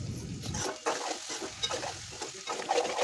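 Chili powder being stirred into okra curry (bendakaya pulusu) in a pan, with close scraping and stirring strokes over a soft sizzle.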